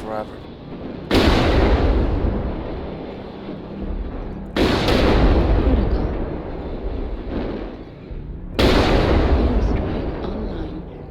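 Heavy weapons firing from a Highlander IIC mech in MechWarrior Online, three loud booming volleys a few seconds apart, each with a sustained rumbling tail.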